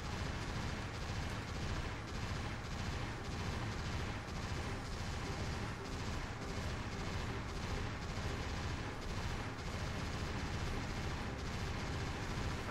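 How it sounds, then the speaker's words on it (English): Sustained, dense gunfire from a space-shooter game with dinosaurs, a loud continuous barrage of rapid shots and blasts with no pauses, heard alone without any talking. "I know he's firing at something."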